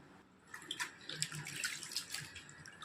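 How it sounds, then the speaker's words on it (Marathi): Grated potato chips being washed by hand in a wide plate of water make soft sloshing and splashing, quiet and close, with no talk. "पुन्हा 2दा चिप्स धुवून घ्यायचं, काळं पण निघून जातात"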